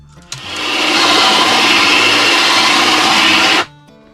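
Power drill driving into knotty pine boards during a cabin wall installation, one sustained loud whirring run of about three seconds that starts abruptly and cuts off sharply, heard up close without speech.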